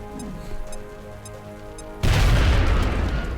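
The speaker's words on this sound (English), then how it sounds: "Now toss your grenade at the enemy in front of you." A grenade explodes in the video game XCOM, a sudden loud broadband blast about two seconds in that swells into a sustained rumbling roar after a quieter stretch of faint game ambience and ticking.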